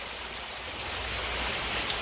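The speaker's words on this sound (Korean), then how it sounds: "이렇게 작은 폭포와 소가 안반 구간에 자연적으로 이렇게 되어 있고요." Small natural waterfall spilling into a rocky pool in a forested mountain valley, a steady rushing hiss of flowing water, fairly faint and continuous.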